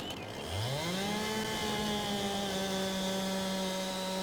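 A chainsaw in Farming Simulator 22 revs up from idle and holds a loud, steady high-pitched whine while cutting down a tree, close and continuous with no talking.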